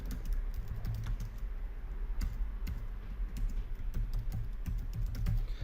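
Steady, rapid clicking of keys on a computer keyboard, close and continuous with a low background hum.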